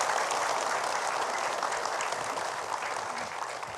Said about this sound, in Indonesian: Cakep, tepuk tangan deh.